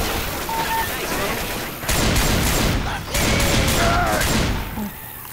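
Gunfire in the zombie shooter Left 4 Dead 2: loud, rapid bursts of shots and heavy blasts in close succession, some sharp bangs standing out, with a voice talking over the chaos.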